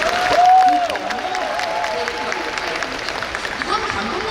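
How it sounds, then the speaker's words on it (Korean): An audience claps and cheers at an outdoor stage open talk for a film, a dense, steady patter of applause that swells early and then holds, with a voice talking over it. "박수 부탁드리겠습니다."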